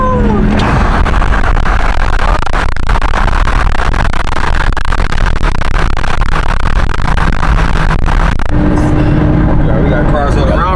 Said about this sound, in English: we got cars all around us right now